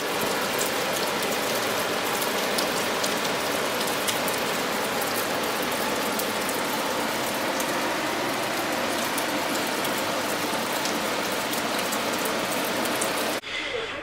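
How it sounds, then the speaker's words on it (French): Heavy rain pouring down in Nikko, Japan, a dense, constant roaring hiss of a downpour on surfaces, close and loud throughout before it ends abruptly. "la pluie ne souhaite pas s'arrêter, au contraire elle s'est même intensifiée, on est passé de crachin à grosse averse."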